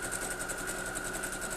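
Domestic sewing machine stitching a quilt block, a steady fast mechanical whir with a constant hum and rapid regular needle clatter, close and continuous with no talking.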